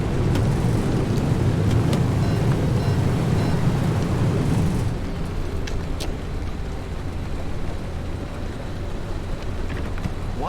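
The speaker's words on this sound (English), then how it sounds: "Boy, it's raining, it's pouring." Heavy, steady rain pours with deep rumbling thunder in the Pacific Drive video game, a dense roar that drops to a slightly softer downpour midway, with no voices.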